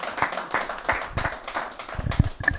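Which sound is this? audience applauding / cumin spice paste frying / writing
audience applauding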